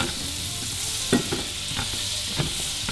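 Butter and garlic-infused olive oil sizzle in a pan while fish is being blackened, a steady broadband hiss with a few louder pops and spits, close and continuous, no one speaking.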